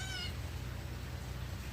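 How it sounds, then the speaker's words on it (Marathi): Two cats meowing: a brief, high meow at the very start, then fading into a steady low background hum. "हे दोघी मांजरी दिसत आहे मला."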